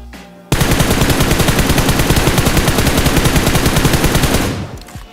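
Rapid automatic weapon fire in PUBG Mobile, one continuous loud burst of evenly spaced shots lasting about four seconds after a brief quiet start, then cutting off with a short tail.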